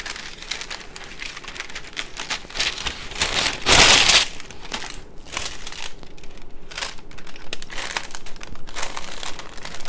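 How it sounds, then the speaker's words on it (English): Parchment paper crinkles and crumples as it is pressed over a jar of root tincture before the lid goes on, with a burst of loud rustling in the middle and steady crackling throughout. "I'm going to put a piece of parchment paper between the lid."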